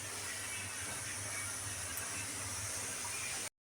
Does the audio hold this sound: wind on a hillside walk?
no